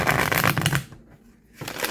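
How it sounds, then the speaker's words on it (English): Cards riffle and flutter loudly in a shuffle, a brief pause, then the shuffling starts again, close by. "Let's do another shuffle."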